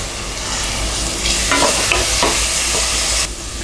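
Tomatoes and onions sauté in oil for prawn pulao with a continuous close hiss and sizzle. A cluster of spatula scrapes and stirs comes in the middle, then the sizzle dips slightly near the end. No voices.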